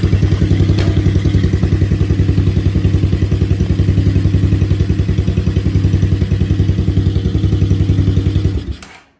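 A cheap four-wheeler ATV engine running close by with a loud, rapid, steady thumping beat and metallic clatter, holding an even idle before abruptly cutting out at the end, with no talking.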